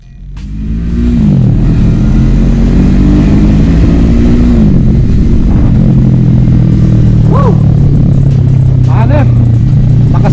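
A 2024 FKM Falcon X400 big bike engine revs up and holds a steady, loud mid-pitched drone, with rising and falling throttle blips layered over a continuous idle rumble.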